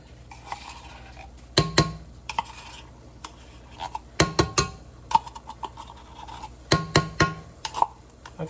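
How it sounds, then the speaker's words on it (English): A knife scrapes tomato paste out of a metal can in close, irregular clinks and scrapes, clustered in short bursts with quiet gaps between and no talking. "So I'm going to use my knife, you guys, to get this paste out the can."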